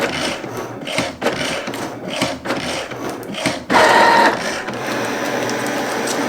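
A Cricut cutting machine cuts a layered card, with close whirring and clicking as its carriage moves in uneven bursts, followed by a louder buzzing pass and a steady mechanical hum.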